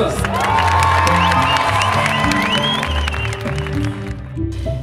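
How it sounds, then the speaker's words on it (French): Audience at a climbing World Cup competition applauds and cheers for French climber Charlotte Durif; a steady wash of clapping mixed with high whoops and shouts, moderately loud and continuous throughout. "Applaudissements pour la française, Charlotte Durif"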